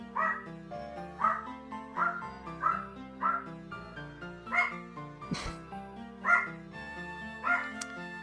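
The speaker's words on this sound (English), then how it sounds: "My dogs are excited for some reason." Pet dogs bark excitedly in a regular series of about ten short barks, somewhat distant, over steady background game music.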